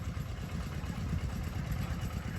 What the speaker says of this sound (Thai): ขณะนี้กำลังสูบน้ำใหม่เข้ามานะครับ